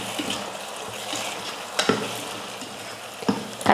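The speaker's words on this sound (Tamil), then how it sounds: "கத்திரிக்காய் போட்டதுக்கப்புறம் கொஞ்சம் உப்பு போட்டு ஒரு 2 நிமிஷத்துக்கு நல்லா வதக்கிக்கோங்க" Brinjal pieces fry in oil with a sprinkle of salt, a continuous soft sizzle broken by a few sharp stirring clacks of a spatula against the pan.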